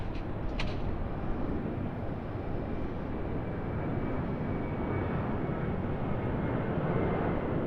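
A Boeing 737 airplane at Sydney Airport gives off a steady, distant jet roar, broad and constant throughout with a couple of faint clicks near the start and no speech.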